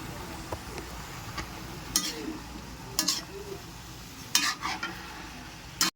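Eggplant being stirred into tocino in a pan, a faint sizzle running underneath with a few scraping stirs and clinks near the middle and end, no talking.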